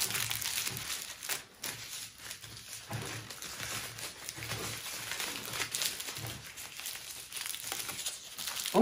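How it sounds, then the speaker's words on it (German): Paper folded over a rubber band on a glass jar for homemade autumn decor, close, steady crinkling and rustling with faint crackles and no speech. "Und das Papier wird jetzt umgeschlagen, dass man halt nachher nichts mehr von dem Gummiband erkennen kann"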